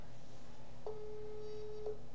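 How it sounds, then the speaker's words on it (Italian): Outgoing ring tone on a WhatsApp call, a single steady electronic tone lasting about a second over faint background hiss. "Sta squillando."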